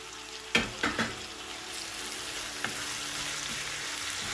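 Tomato pieces fry with ginger-garlic paste in a pan for prawn curry, giving a steady soft sizzle with a few sharp knocks near the start.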